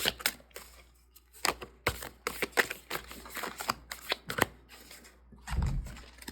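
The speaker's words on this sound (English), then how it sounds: "I'm going to shuffle this 2 more times" A large combined pile of tarot decks is shuffled by hand, producing a rapid series of crisp, papery snaps and riffles close up, uneven in rhythm, ending with a duller thump.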